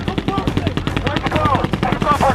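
Rapid automatic bursts of simulated gunfire crackle loud and close during special warfare combatant-crewman training, continuous and rhythmic, with shouting voices mixed in.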